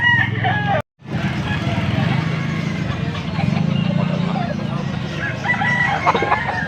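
A young rooster (stag), about a year old, crows at an open-air poultry market in Pampanga, its long cock-a-doodle-doo carrying over steady crowd and vehicle noise, with nearby voices talking and a brief dropout near the start.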